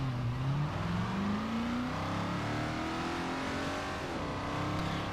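Porsche Panamera in Forza Motorsport 4 pulling away slowly, its engine note rising steadily in pitch through a smooth, continuous drone, with a single gear change partway through and a steady, close, even level throughout.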